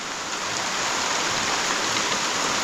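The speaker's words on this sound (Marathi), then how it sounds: "पाऊस बघा केवढा आला आहे" Heavy monsoon rain pours down in a dense, steady roar of water, loud and unbroken throughout, with no voices.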